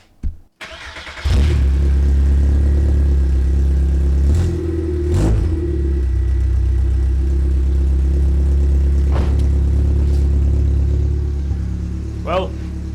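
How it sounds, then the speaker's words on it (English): Cold start of a Volkswagen Golf with a straight-pipe exhaust: a few clicks, then the engine catches with a loud burst and settles into a rough, booming idle with occasional blips, close to the microphone. "Just that cold start, it really gets you."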